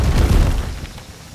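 A deep, rumbling thunderclap from Odin's wrath rolls out and fades over about a second in the Viking settlement-building video game Land of the Vikings.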